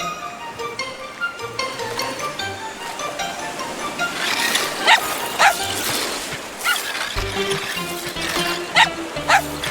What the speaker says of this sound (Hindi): जॉर्ज, बदमाश कुत्ता।